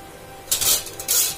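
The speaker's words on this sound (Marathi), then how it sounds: "अगदी हळूवारपणे आपल्याला तेलामध्ये सोडायची आहे शेव" Sev, a thin Indian gram-flour noodle, dropped into hot oil, giving two short bursts of bright hissing sizzle close up, the second following about half a second after the first.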